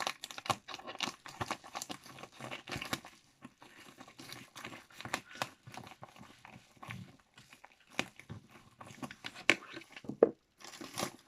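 A second small package from an online craft-supplies order being torn open and handled by hand: close, busy crinkling, tearing and rustling of plastic or paper wrapping in quick irregular bursts, with no talking.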